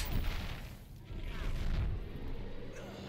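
A booming atomic explosion attack from the Injustice 2 fighting game rumbles through the whole clip as a dense, loud low-frequency roar with a brief dip near one second, mixed with game noise.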